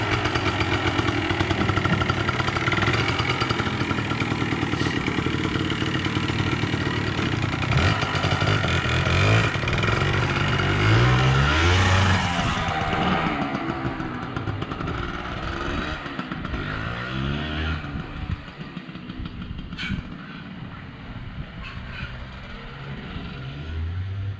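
A Yamaha AG100 motorcycle engine runs steadily on a test ride after repair work, a loud continuous mid-pitched drone that rises and falls with throttle changes, then eases slightly toward the end with no talk.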